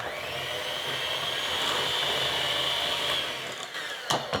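An electric mixer whirs steadily while beating lemon cake batter, a loud, continuous motor hum that cuts off near the end, followed by a couple of bowl knocks.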